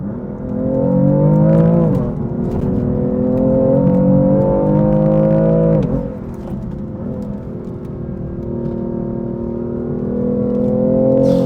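A BMW car engine pulls hard and close, revving up, dropping back briefly at a couple of gear shifts, then climbing again; no one speaks.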